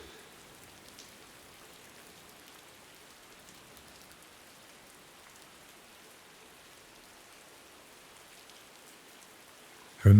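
Steady, unbroken rain falls alone at an even, moderate level, a soft continuous hiss without a voice, ending in a sudden louder burst of noise.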